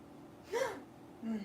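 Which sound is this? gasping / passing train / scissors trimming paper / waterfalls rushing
gasping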